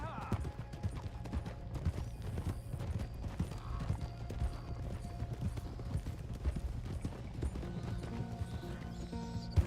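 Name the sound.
thoroughbred horse hooves, Red Dead Redemption 2 video game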